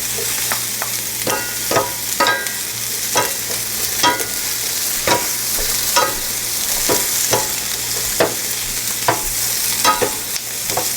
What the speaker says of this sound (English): Saute this about 30 seconds because you don't want this vegetable overcooked.